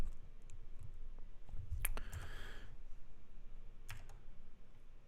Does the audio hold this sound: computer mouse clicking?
yes